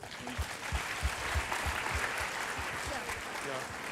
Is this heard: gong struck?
no